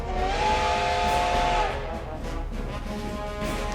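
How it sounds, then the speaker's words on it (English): A steam train whistle from the video game Code: Realize shrieks in one long sustained blast over steady hiss, then the whistle cuts off and a loud, breathy steam rush continues alone. "The whistle blows again."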